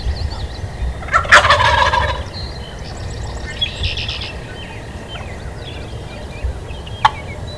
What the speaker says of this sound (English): they're gobbling pretty hard up inside the woods